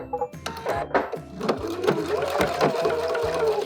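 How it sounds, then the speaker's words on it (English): A sewing machine stitches the right side seam of high-waisted shorts at a half-inch seam allowance, running close by in a fast, uneven, rhythmic patter of needle strokes. "So let's sew up the right side seam."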